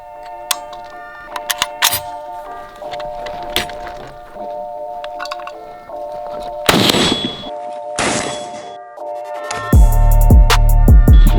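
Sharp gunshots ring out, each bullet striking a steel rail with a metallic clang that rings on as a sustained tone, with a heavy rumble near the end.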